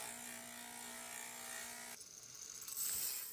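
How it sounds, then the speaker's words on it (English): A track saw built for stone cuts soapstone with a steady, whining motor hum that shifts partway through as the blade bites, close and moderately quiet. "Here's us using a track saw made for cutting stone."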